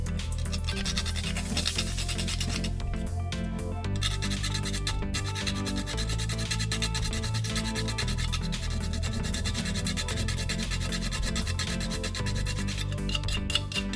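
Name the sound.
grating fresh nutmeg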